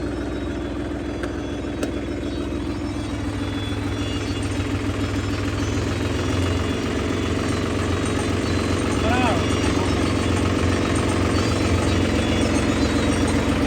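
A tractor engine runs loud and close in a continuous, steady low drone with a rhythmic throb. The level holds evenly throughout, with no pauses.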